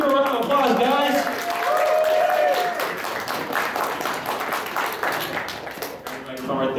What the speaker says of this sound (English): Let's give a round of applause, guys.